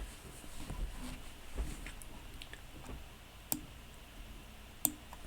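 A few sparse, faint mouse clicks on a computer, isolated sharp ticks spaced seconds apart over a quiet room background.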